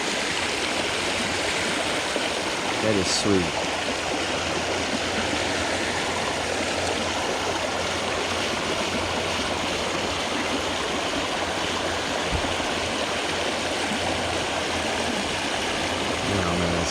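Clear creek water flows and splashes over smooth rocks in a constant close rush, with a voice speaking briefly over it.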